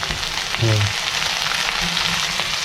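Onion and kohral, a wild monsoon vegetable, frying in a pan with a steady close sizzle and crackle, broken by a short low rumble near the start.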